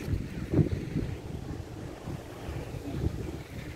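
Wind buffets the microphone in low, rumbling gusts over a steady roar of surf on an Azov Sea beach, continuous and fairly loud, with no voices.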